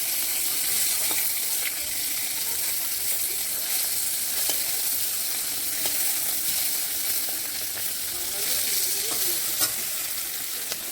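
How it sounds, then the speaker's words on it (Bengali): Fish frying one piece at a time in hot oil in a kadai wok, giving a steady, loud sizzle throughout with faint scattered clicks and stirring sounds. "এখন মাছগুলি এক এক করে ভেজে নেব।"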